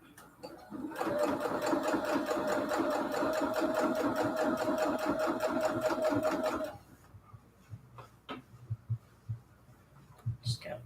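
Sewing machine stitching quilted pillowcase fabric runs in a steady fast rattling burst for about six seconds, close and loud, then stops while a voice talks over faint handling sounds.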